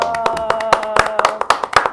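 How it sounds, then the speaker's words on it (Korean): A studio audience clapping in a brief, brisk burst of hand claps, close and lively, with a little voice mixed in. "박수 한번 쳐주십시오"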